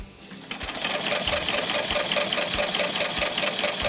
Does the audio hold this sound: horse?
no